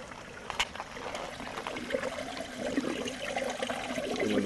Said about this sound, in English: so now we just take this plug out and the water is going to drain